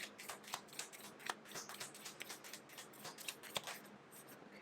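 Tarot cards are shuffled and drawn, giving quick, soft riffling flicks in an irregular rhythm, close and faint with no talking.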